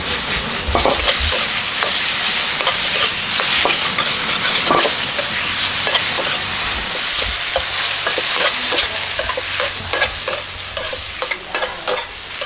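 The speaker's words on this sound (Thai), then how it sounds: "ผัดแบบแห้งๆน้ำไม่เจิงแบบนี้นะครับ" Squid and holy basil stir-fry in a hot pan, fairly dry, with loud constant sizzling and frequent sharp spatula clatters against the metal.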